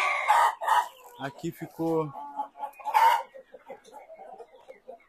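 Roosters and hens of Balão GSB and Caipirão Gigante breeds in poultry pens, with a close crow-like call and clucking breaking through between people talking nearby.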